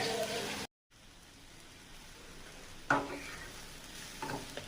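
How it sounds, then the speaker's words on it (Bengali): Dried kachki fish frying in a pan with turmeric and salt gives a faint, steady sizzle, broken by a short silent gap and a few louder stirring scrapes later on. "হলুদ লবণ দিয়ে দিলাম, দিয়ে এবার ভালো করে ভেজে নিয়ে তারপরে আলু দিয়ে দেবো।"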